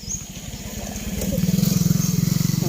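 Outdoors in a rural area, a motorcycle approaches and passes close by, its engine growing louder into a pulsing, throbbing drone that holds strong to the end.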